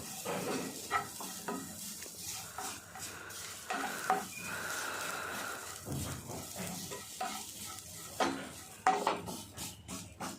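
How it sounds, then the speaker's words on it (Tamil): Grated coconut roasting in a pan for sweet kozhukattai, with steady stirring and scraping over a soft continuous sizzle and occasional utensil clinks. No one speaks. "அடுத்தது தேங்காய் வறுக்க போகிறோம்"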